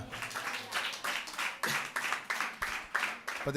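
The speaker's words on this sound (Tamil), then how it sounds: "கைத்தட்டலாமா?" A church congregation claps together in a steady, even rhythm of sharp, close bursts, about three claps a second, with no talking over it.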